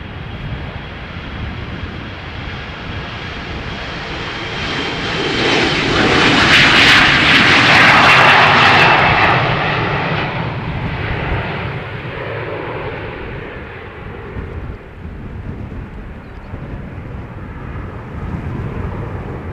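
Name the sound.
Boeing 737 MAX jet airliner engines at runway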